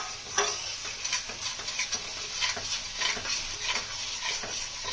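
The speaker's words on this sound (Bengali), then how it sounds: "তেল ছাড়া অবধি মশলাটা কষিয়ে নেবো" Spice paste with Kashmiri chilli powder sautéing in oil, a steady close sizzle broken by repeated scraping strokes of a spoon against the pan, with no one talking.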